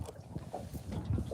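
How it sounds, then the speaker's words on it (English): Wind gusting across open water around a small fishing boat, a steady low rushing roar with mic buffeting, close and moderately loud, no talking. "And the wind's picked up."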